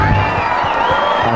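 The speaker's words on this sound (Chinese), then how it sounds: "掌声鼓励一下！" A studio audience on a variety show breaks into applause and cheering after a difficult move in a soccer-like sport demonstration, a dense, loud crowd roar with clapping and whoops filling the brief moment.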